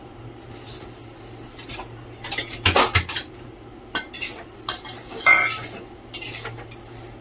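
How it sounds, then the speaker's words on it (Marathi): Coarse salt is dry-roasted in a pan for a homemade mango pickle spice mix, with a spoon clinking and scraping against the metal in irregular bursts, close and moderately loud, no talking. "आता आपल्याला हे जाड मीठही भाजून घ्यायचं आहे."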